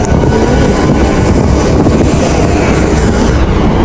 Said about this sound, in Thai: เฮ้ยรถไฟจะขึ้นไป